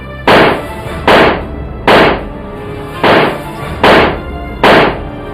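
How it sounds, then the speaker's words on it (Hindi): Six sharp, loud pistol shots fired by attackers at a house gate, spaced roughly a second apart in a steady, evenly paced volley with no talk. "सभी के हाथों में पिस्तौल है और गेट पर खड़े होकर गोलियां दागना शुरू कर देते हैं।"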